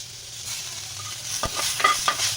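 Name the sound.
tomatoes added to frying caramelized onions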